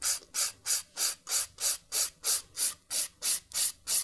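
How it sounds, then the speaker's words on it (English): A 180 grit file rasps across a small craft piece for a 3D shadow French heart, about a dozen even back-and-forth strokes in a steady rhythm, close and clear with no talking. "I've got a 180 grit file."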